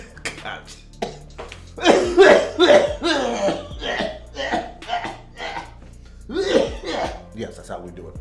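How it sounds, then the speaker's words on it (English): A person coughs in a few short, rough bursts amid lively, loud talk and laughter, the coughs blending into the chatter. "I'm already coughing."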